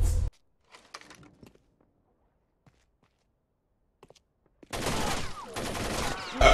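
Gunfire in the Rainbow Six Vegas 2 video game: a loud, dense burst of shots breaks out after a long near-silent stretch with a few faint taps, continuing to the end.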